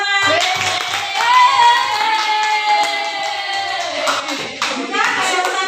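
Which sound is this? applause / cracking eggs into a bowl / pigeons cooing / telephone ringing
applause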